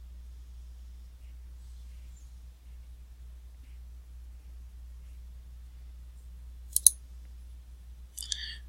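A computer mouse clicks twice, sharp and close, in an Excel chart dialog against a near-silent room with a faint low hum.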